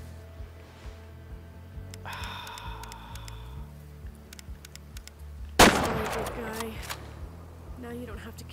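A single loud .223 rifle shot rings out in the hunting video game Way of the Hunter, a sharp crack with a lingering tail, set amid quieter game ambience and faint clicks.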